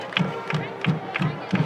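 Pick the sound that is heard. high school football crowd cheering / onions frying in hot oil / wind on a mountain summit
high school football crowd cheering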